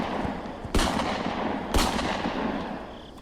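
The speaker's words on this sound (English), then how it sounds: "Dude, did you not hear the gunshots?" Two sharp gunshots in a horror video game, about a second apart, each a loud broadband crack over a steady noisy game ambience.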